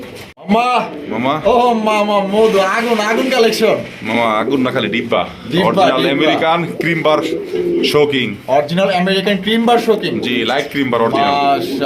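Pigeons of a prized fancy breed coo in the background while someone talks loudly and almost continuously over them.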